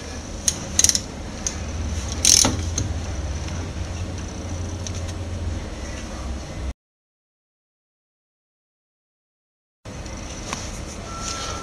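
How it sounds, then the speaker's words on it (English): A torque wrench tightens the bonnet bolts on an Emech F3 water mixing valve, giving faint metallic ratchet clicks and a few sharp clinks over a steady hum, with a brief dropout partway through. "I then use a torque wrench with the appropriate setting"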